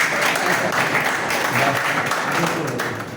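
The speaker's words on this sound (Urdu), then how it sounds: "تھوڑے سے سارے تالیاں بجائیں" Audience at a ceremony breaking into loud, sustained applause, a dense wash of many hands clapping that holds steady and eases slightly at the end.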